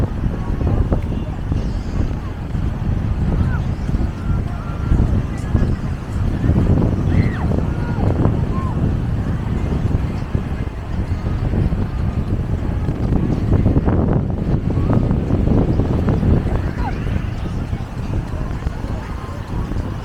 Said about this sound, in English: It is a bit windy though, so I don't know if you can hear me well